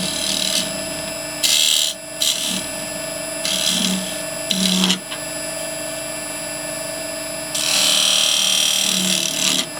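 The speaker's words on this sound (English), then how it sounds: "I'm just undercutting that slightly just so it'll hold better on the chuck." A woodturning lathe undercutting a wooden drinks cover, with a steady motor drone under repeated bursts of rough tool-on-wood scraping, close by.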